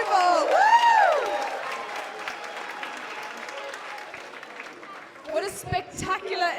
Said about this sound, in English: Can we give one more round of applause to those group of people?